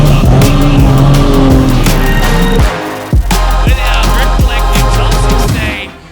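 Drift cars battle at a Calder Park competition in Melbourne, engines roaring loudly and close with rising revs, tyres squealing through long skids and brief gear-change drops, one continuous barrage of racing noise.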